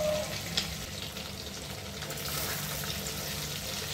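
Chicken pieces, taken from an egg coating, fry in hot oil with a steady, continuous sizzle close by, even throughout with no talk.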